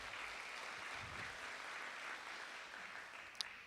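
A business after-hours reception crowd claps steadily for the chamber of commerce sponsor, a soft, even wash of applause throughout with no voices.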